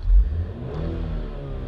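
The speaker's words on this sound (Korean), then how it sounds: "지금 엑셀을 제가 한번 밟아볼게요." A BMW 528i engine revs up from idle with a low rumbling surge, then holds a steady hum as the revs settle back down, heard close by.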